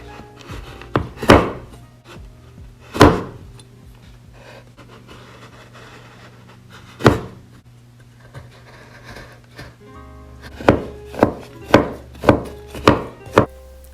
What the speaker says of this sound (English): Carefully use your knife and chop the chocolate into small chunks.